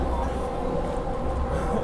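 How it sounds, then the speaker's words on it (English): Inside a moving train in Atlanta: a steady, dense rumble fills the whole stretch with no clear voices, just constant rolling noise close around the listener. "We're riding this train in Atlanta,"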